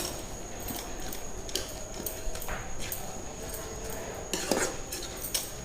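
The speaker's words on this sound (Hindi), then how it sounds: "2 मिनट बाद इसको इस तरह से मैश करते जाना है और चलाते जाना है" Utensil scraping and clinking in a pot as arvi (taro) leaf saag is mashed and stirred, several sharp scrapes and taps at irregular intervals over a steady low background hum.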